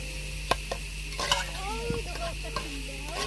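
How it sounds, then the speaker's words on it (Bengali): Soaked, washed lentils dropped into browned garlic in hot oil, making a brief crackling sizzle with a few scrapes and knocks of a spoon in the pot. "এখানে আমি রসুনটা যখন ব্রাউন হয়ে গিয়েছে ডালগুলো দিয়ে দিলাম।"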